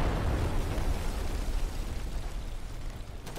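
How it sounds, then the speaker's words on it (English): Artillery in Day of Infamy booms out as a heavy, rumbling explosion that rolls and slowly fades, close and loud, with no voices. "No indication of whether that's friendly or enemy artillery that's being called in."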